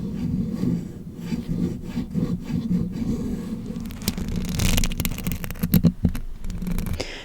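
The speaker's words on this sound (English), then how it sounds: "if you are a person who likes sharp scratching sounds, this might be just perfect for you." Sharp scratching and rubbing directly on a bare microphone, close and continuous, with dense rasping strokes that grow harsher and brighter midway through, several louder scrapes near the end.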